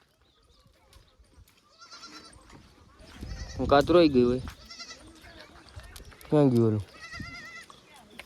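A goat on a farm gives two loud, close, wavering bleats, one long and one shorter, while people talk and move around nearby.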